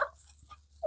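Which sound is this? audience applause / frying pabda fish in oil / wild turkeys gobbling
wild turkeys gobbling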